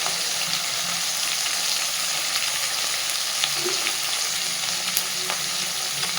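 Fish head frying with spices such as cumin powder in a pan for a traditional Bengali bottle gourd dish, a steady dense sizzle with occasional stirring scrapes and small pops, close and continuous, no voices.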